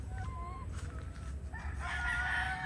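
A pure Gilmore straight-comb gamefowl rooster crows once, a clear, drawn-out call that rises and holds, heard at moderate distance over low background rumble.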